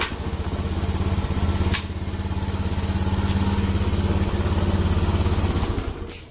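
After being kick-started, a Honda Beat scooter engine idles in a loud, close, steady putter, broken by one short sharp click partway through and fading at the end.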